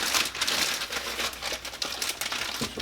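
A plastic bag crinkles and rustles continuously as it is fitted into an Instant Pot basket in a kitchen, close and moderately loud, with scattered sharp crackles and no talking.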